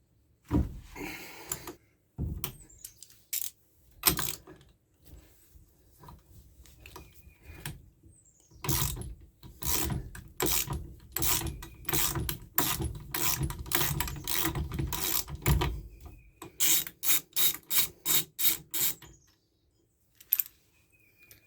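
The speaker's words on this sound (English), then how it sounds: "On ours we use a 13/16 shallow socket to remove this big nut." A breaker bar with a 13/16 shallow socket ratchets off a big nut during ignition cylinder repair on a full-size Jeep Grand Wagoneer, with close, loud bursts of rapid clicking separated by short pauses.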